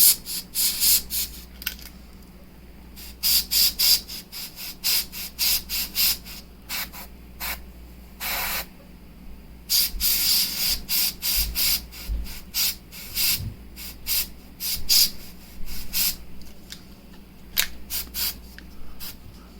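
An airbrush sprays paint onto a miniature in repeated short bursts of airy hiss, some quick and clustered, others longer, close and fairly loud against a quiet background hum.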